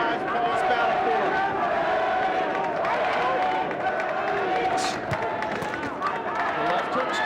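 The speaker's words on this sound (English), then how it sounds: "Crowd trying to energize Paul Spadafora." A boxing crowd at the Paul Spadafora vs. Dennis Holbaek fight roars and cheers to energize Spadafora, a steady dense wall of noise that holds throughout with voices talking over it.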